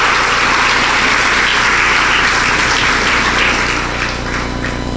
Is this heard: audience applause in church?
yes